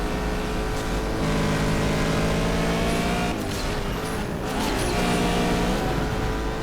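Engine of a car in the Asphalt 8 racing video game building revs as it accelerates, a steady loud drone with layered harmonics running throughout, alone without talk.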